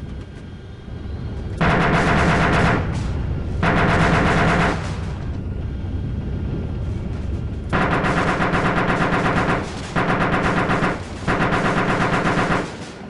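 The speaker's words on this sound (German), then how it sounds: "Du weißt, von wo die Schüsse kommen?" Gunfire in the video game ARMA II rattles in loud bursts of rapid automatic fire, separated by short pauses and a quieter stretch in the middle.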